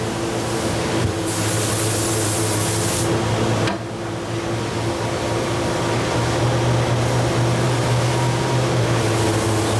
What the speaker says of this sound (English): the additional length of the heel will be cut off the guitar with the use of a disc sander